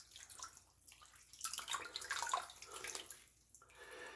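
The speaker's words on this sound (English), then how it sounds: "I'm going to put this towel in the sink." Water runs and splashes into a bathroom sink as a towel is soaked, an uneven close trickle that swells and fades.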